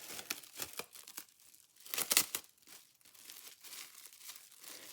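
Plastic cling wrap being crumpled and crinkled by hand for stamping: close, crisp bursts of crackling in quick irregular clusters, a louder scrunch partway through, then softer fading rustles.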